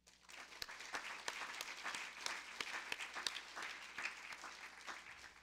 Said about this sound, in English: The applause clearly shows how everyone present much appreciates your work.